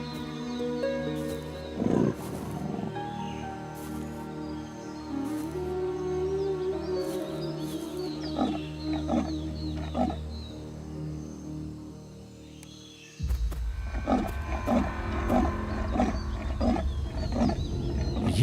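A lion roars in the wild amid other wildlife sounds, with deep repeated calls that grow louder and closer in the second half of the clip, heard without any talk.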